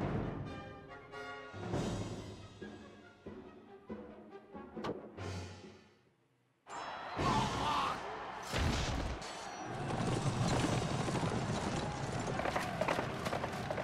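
Mounted horse troops gallop into battle in the PS2 game Kessen 2, with thudding hoofbeats and clashing crashes, a brief drop to near silence midway, then a dense, loud battle roar.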